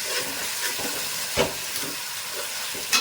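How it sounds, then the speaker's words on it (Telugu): Tomatoes frying in a pan with ginger-garlic paste and green chillies, a continuous sizzle and hiss with a few sharper spits and stirring bursts, close and fairly loud. "టమాటాలకి కొద్దిగా పైన స్కిన్ వీడిపోయేంత వరకు మెత్తగా మనకు ఫ్రై చేసేసుకోవాలండి"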